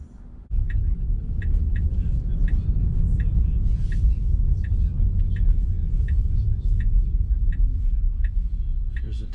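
A Tesla Model 3 RWD electric car drives along steadily, its low rolling road rumble and faint motor whine continuous and close inside the cabin, with small rhythmic ticks over the top.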